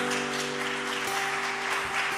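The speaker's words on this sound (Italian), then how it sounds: "Vi invito a fare un applauso al Signore." A church congregation applauds during a teen worship gathering, a steady wash of clapping held at an even level over sustained organ or keyboard tones.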